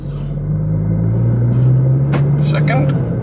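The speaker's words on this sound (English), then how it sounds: "Goes into gear, driving well." A cheap Seat Leon Cupra pulls away in gear with a steady low engine drone and road rumble, loud and close throughout, with a few brief clicks and rattles near the end.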